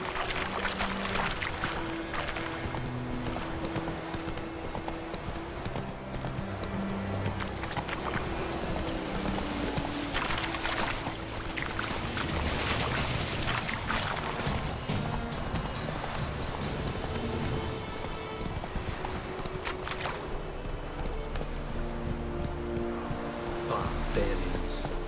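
Roach the horse galloping in the Witcher 3 video game, a rapid continuous clip-clop of hooves under loud game music and ambience, with voices speaking over parts of it.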